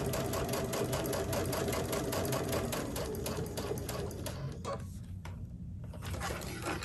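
A sewing machine runs steadily while sewing quilt binding, a close, rapid mechanical chatter that slows briefly near the end before continuing.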